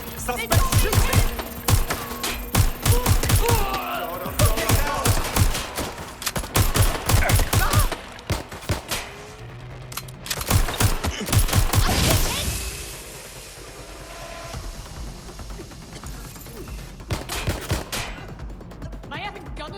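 Gunfire from a suspect during a police shootout in the video game Watch Dogs: Legion, with rapid, loud bursts of shots in clustered volleys, occasional whooshes and a lull before more firing, mixed with scattered voices.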